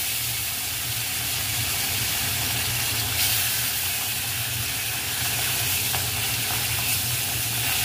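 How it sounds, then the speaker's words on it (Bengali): Fish fries in hot oil in a pan for a Bengali fish curry, a dense, continuous loud sizzle and hiss heard close up without any voices. "তেল গরম হয়ে গেছে বন্ধুরা। এবার মা মাছটা ভাজার জন্য"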